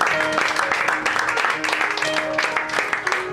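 An audience claps at a poetry evening in a bar, sustained crowd applause filling the room at steady strength with some murmuring and musical tones mixed in.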